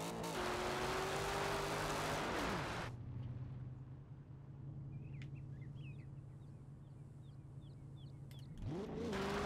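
Chevrolet Camaro engine in Forza Horizon 2 revving loudly at the start, then idling with a steady low drone and faint bird chirps, before revving up again at the end.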